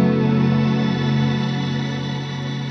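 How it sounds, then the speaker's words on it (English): Strymon BigSky reverb pedal set to shimmer, a guitar tone swelling into a thick, loud, sustained wash of layered, pitched-up harmonics that fades only slightly across the whole stretch. "So on the Big Sky, it's gonna sound like this."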